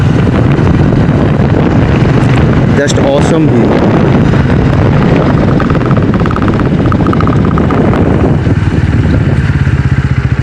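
Motorbike riding along a road through Joypur Forest in Bankura, a steady loud engine drone mixed with heavy wind buffeting on the microphone, with someone speaking briefly over it.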